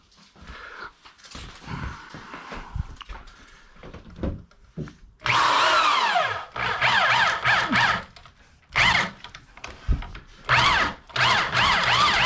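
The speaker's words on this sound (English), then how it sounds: "Okay, now I think I'm going to drill the holes." Drilling holes into a bathroom wall during a walk-in shower renovation, with several loud bursts of power drill whine separated by pauses and handling noise.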